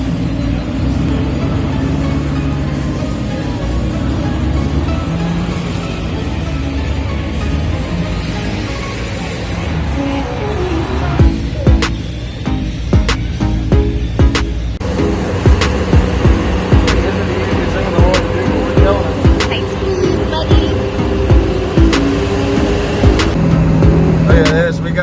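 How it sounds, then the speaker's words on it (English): A monster truck towing a raceboat through downtown Sarasota with a police escort, its engine droning loud and steady throughout, with clattering road noise and occasional voices. "towing a raceboat with the freaking mega truck in downtown Sarasota"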